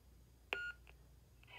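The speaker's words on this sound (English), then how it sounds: "just press and hold till you hear a beep" A Yoda lightsaber hilt gives a single short electronic beep after the button is pressed and held to cycle sound fonts, followed by faint softer tones in a quiet room.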